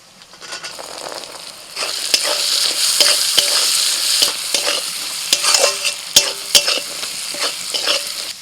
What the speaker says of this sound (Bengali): মশলার সাথে মটরশুঁটিটাকে মিনিট দিয়ে কষিয়ে নিয়েছি